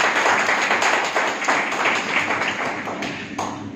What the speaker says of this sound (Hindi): तो एक जोरदार ताली बजाइए